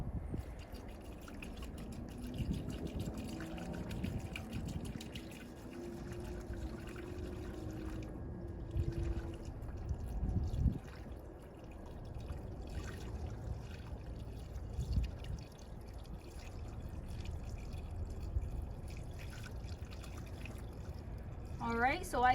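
Winter-grade windshield washer fluid pours into a car's washer reservoir with a soft, quiet trickle and gurgle as the tank fills, while a person talks over it.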